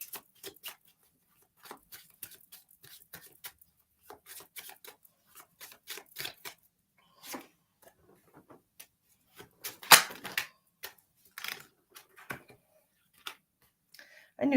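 Tarot cards shuffled by hand during a reading, a string of quick light riffling ticks and flicks, some brief bursts louder than others, close and fairly quiet, with no talking over them.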